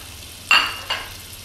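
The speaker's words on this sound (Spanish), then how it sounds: "ya viendo derretido la mantequilla, procedemos a echar nuestro pimiento, cebolla colorada," Chopped bell pepper and red onion hit hot melted butter in a pan, a sharp sizzle that flares up, fades, then flares again briefly, close and clear with no talking.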